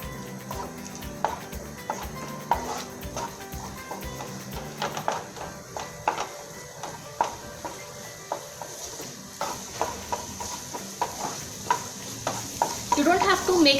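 Chopped onions fry in a little oil in a hot pan, a steady sizzle under repeated rhythmic scraping of a spatula stirring them, close and moderately loud.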